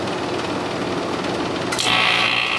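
An old Fedders 5100 BTU air conditioner with a Rotorex compressor that has sat on its back for about a year runs its fan with a steady hum, and the compressor kicks on near the end with a louder, brighter drone.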